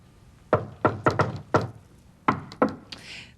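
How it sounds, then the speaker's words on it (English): A patterned knock on a door in a TV drama, about seven sharp raps in an uneven rhythm, close and crisp with a short pause midway and a faint rustle at the end. "That's his special knock."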